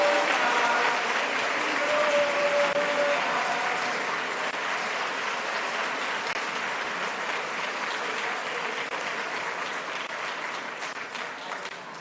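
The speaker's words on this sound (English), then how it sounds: "Please, a round of applause for Ruben Lazaro Lee Fox." A crowd applauds a graduate at a Class of 2024 graduation ceremony, with steady, dense clapping that holds for the whole stretch and eases slightly toward the end, with no voices over it.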